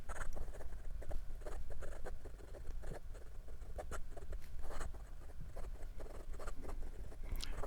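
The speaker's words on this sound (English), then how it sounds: "And some quick writing." A Majohn V1 fountain pen moves quickly across paper, a faint, steady run of soft scratchy ticks and pattering strokes close to the ear with no voices.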